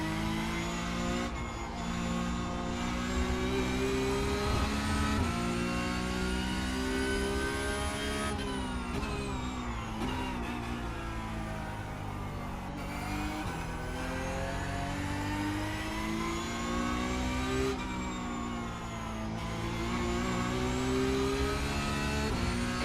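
Porsche Cup race car engine at Spa-Francorchamps in iRacing, held loud and close throughout with high revving whine rising through the gears and dipping at several shifts, no talking.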